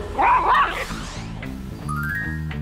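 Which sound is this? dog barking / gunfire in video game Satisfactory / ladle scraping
dog barking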